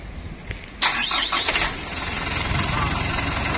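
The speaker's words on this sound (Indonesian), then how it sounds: "Klakson 2 kali untuk menghidupkan mesin." A dump truck's engine starts nearby after two short horn honks, the engine catching with a squealing crank and settling into a steady, loud idle.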